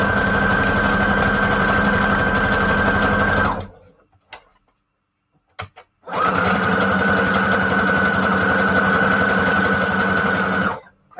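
A sewing machine stitches around the edge of paper in two long, steady runs, each a loud, close, even whirr, with a brief quiet pause and a few small clicks between them.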